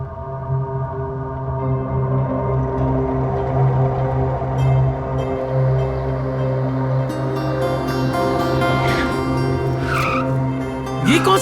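A car skids with tires squealing, a long, loud, wavering screech over a humming engine, rising in pitch toward the end, close and harsh, with little talk.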